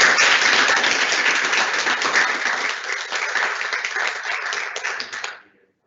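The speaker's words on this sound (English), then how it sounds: "we all give them a round of applause" A sustained round of applause from an audience at a student government general session meeting, dense and fairly loud, holding steady for about five seconds before ending abruptly.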